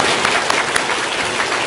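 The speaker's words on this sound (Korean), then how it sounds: "박수 한번 하시죠." A short burst of loud, dense clapping from a gathered church congregation during a pastor's installation service, continuous for under two seconds.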